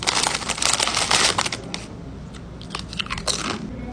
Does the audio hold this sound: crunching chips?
yes